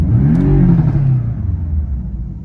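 A Porsche 718 Cayman S engine revs loudly and close by, its pitch climbing and then sweeping down into a lower rumble as it settles. No voices are heard over it.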